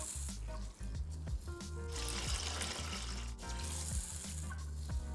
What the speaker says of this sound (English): After washing, we'll drain the water.